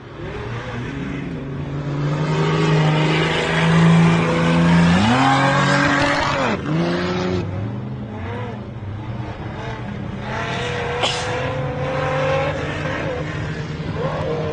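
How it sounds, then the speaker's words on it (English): A Jeep Cherokee drives through the finish line of an off-road race, its engine roaring loud and close with rising and falling revs, under a dense wash of other engine noise and crowd din. "Brian Barron just pulled on through in the 4608 Jeep Cherokee."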